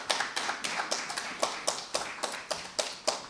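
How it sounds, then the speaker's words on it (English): Sparse, fairly regular clapping from a small audience at a League of Women Voters candidate debate, each clap distinct and moderately quiet, repeating steadily about every quarter second. "Now you can clap."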